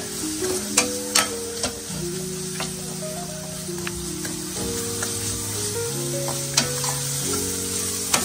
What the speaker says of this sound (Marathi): तर ह्याच्यामध्ये आता हे चांगले फ्राय होऊ द्या पहिले.